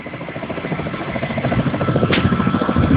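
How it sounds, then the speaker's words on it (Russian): A helicopter flies over flood-hit Krymsk during a rescue, its rotor beating in a steady rapid thump that grows slightly louder as it approaches, with no talk over it. "О, вертолет, вот он."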